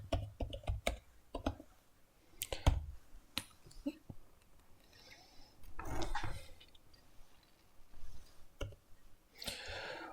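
Quick bursts of keystrokes on a computer keyboard while code is typed, close and crisp, with irregular clusters of clicks separated by short pauses.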